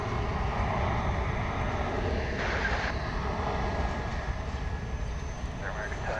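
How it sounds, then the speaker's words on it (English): An American Airlines Airbus A321 landing at DFW airport, its engine roaring steadily at a distance beneath constant radio chatter and talk. "It's an A321 American Airlines aircraft."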